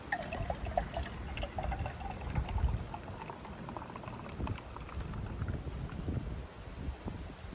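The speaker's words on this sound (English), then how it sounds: "Let's go and pour my Dr. Pepper into my drink." Dr Pepper is poured into a bourbon drink outdoors on a snowy night, a close, fizzy pour with bubbling and crackling carbonation that keeps going for several seconds, with no talking.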